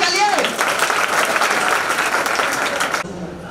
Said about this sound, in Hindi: जोरदार तालियां विकास सर के लिए।